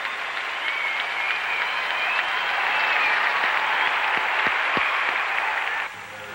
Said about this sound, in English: a nice round of applause from the crowd here at the Met Center